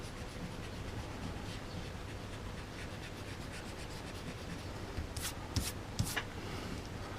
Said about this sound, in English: that's what's cool about the col-erase, is you can erase it, see?